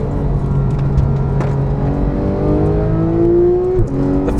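Engine of a 2015 Porsche 911 GT3 (991) climbing steadily in pitch as it revs toward high RPM, loud and close, rising smoothly before a sharp drop as the throttle lifts.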